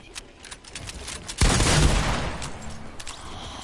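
A heavy shotgun firing in a video game, a single loud blast with a lingering rumbling tail over background game noise and small clicks.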